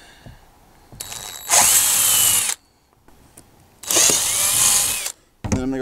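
A power drill with an eighth-inch bit makes two short, loud, high whirring bursts with a brief pause between, close up, with faint handling noises around them.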